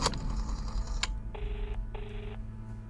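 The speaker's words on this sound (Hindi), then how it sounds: "शाहिद तुम अपने प्रोफेशनल किलर को फोन लगाओ" A telephone being dialed: a couple of sharp clicks followed by two steady touch-tone beeps, close and clear over a low background hum.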